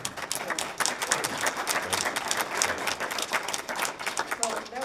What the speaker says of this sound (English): that deserves a little applause.